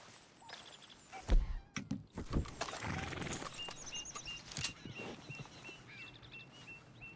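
Horse in the Red Dead Redemption 2 video game, with hoof clip-clops, a brief snort or whinny and scattered bird calls over outdoor ambience, no talking.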